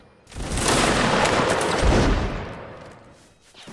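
A line of infantry in a Napoleonic Wars game fires a musket volley, a loud, near, crackling burst of many shots that merges into one rolling roar and then fades over a couple of seconds.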